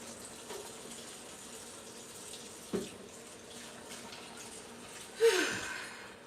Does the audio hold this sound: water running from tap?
yes